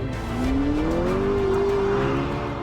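A McLaren drifts through a corner at about 100 mph, a loud sustained engine roar mixed with a squealing tire note that rises and then holds steady across the whole brief stretch.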